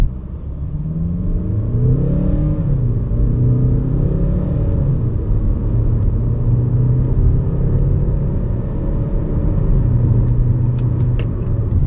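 A diesel Hyundai Tucson with an eight-speed automatic accelerates hard from a standstill to 100 km/h, its engine rumble rising steadily and close-up for the whole run, with a few faint clicks near the end and no talking.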